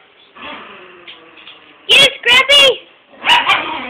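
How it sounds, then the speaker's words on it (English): A few sharp dog barks, two quick ones then a third, with a softer pair a moment later, fairly close over a low background hum. "She'll start barking at her and get mad at her for stopping to play with him."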